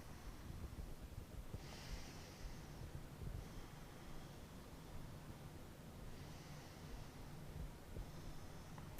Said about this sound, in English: Inhaling through the nose and exhaling through the nose.